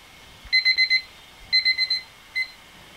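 An electronic auction timer alarm sounds in three bursts of rapid high beeping, a pair of four-beep groups and then a single short beep, loud and clear with no talking.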